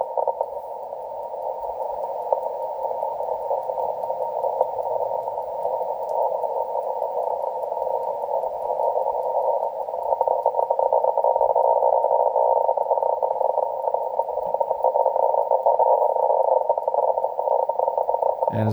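Steady band-limited radio interference noise on the 40-meter band through a Yaesu FTdx10 receiver late at night, a continuous hissing buzz with a faint rapid pulsing texture, loud and unbroken for the whole stretch, slightly stronger in the second half.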